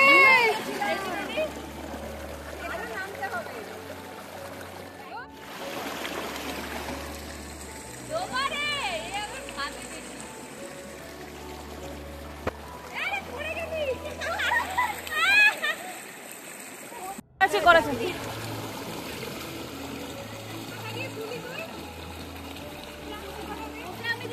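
Cold water in a forest stream on a downhill trail flows and splashes nearby, a constant gurgling rush under frequent excited talking from several people.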